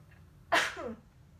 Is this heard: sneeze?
yes